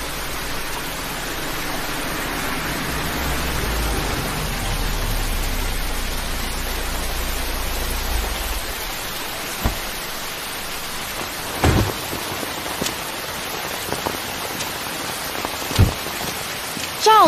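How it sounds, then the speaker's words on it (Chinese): Heavy rain pours down steadily outdoors as a dense, close hiss, with a low rumble early on and a few sharp knocks later; no one speaks over it. "下这么大雨，哎呀，早知道带伞啦"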